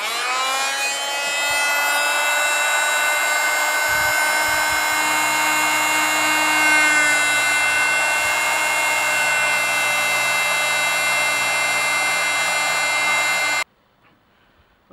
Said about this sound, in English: I actually switched out to the angle grinder for depth